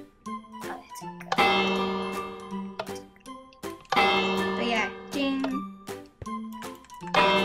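Bright chiming Minecraft bell tones ring out repeatedly, mixed with other electronic sounds and a voice.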